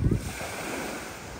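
Small waves wash onto a stony beach on a cool day in Turkey. A brief low thump at the start gives way to a steady soft surf hiss mixed with wind noise, with no voices.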